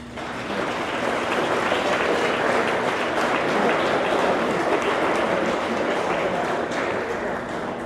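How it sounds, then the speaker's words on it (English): Audience at a tennis academy banquet applauds young tennis players, a steady broadband wash of clapping sustained loud and close for about eight seconds with no break. "Let's give these young players a round of applause"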